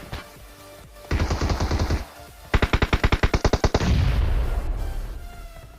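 Tommy gun fire in the PUBG battle royale game, heard as two loud automatic bursts of rapid evenly spaced shots, the second burst sharper and more distinct, followed by a lingering boom.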